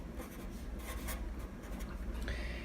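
Marker or chalk writing math on a board in a classroom, with quick scratchy strokes and taps in uneven bursts, close and fairly faint, and no talk.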